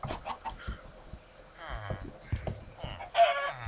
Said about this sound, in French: Ah, mais il y a plein de poulets ici.